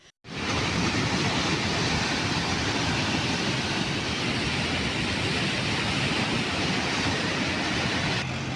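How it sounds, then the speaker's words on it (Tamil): Rough sea pounds the shore at Pattinapakkam beach in Chennai under strong wind, a dense, continuous roar of surf and gusting wind buffeting the microphone for several seconds, with no voices. "சென்னை பட்டினப்பாக்கம் கடற்கரையில் பலத்த காற்று வீசி வருகிறது. கடல் சீற்றமாக காட்சியளிக்கிறது."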